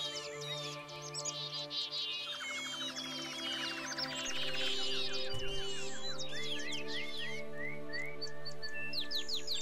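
Birds in the video game Minecraft chirping and tweeting continuously, a dense overlapping chorus of high calls over a steady hum, louder in the second half.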